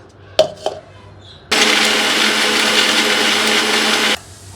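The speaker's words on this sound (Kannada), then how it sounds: "ಸೊ ಬನ್ನಿ ಇದನ್ನು ಇವಾಗ ಗ್ರೈಂಡ್ ಮಾಡ್ಕೊಳ್ಳೋಣ" Kitchen blender grinding a detox juice made with salt and pepper: a couple of faint clicks, then a loud, steady whirring grind for under three seconds that stops abruptly.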